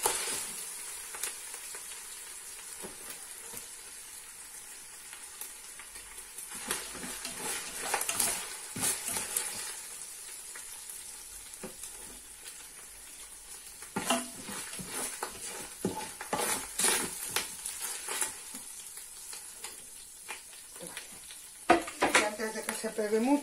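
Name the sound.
minced meat sizzling in oil in a pan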